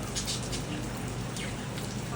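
Steady rain patters on a surface, a dense, even hiss of drops with a faint murmur of people in the background.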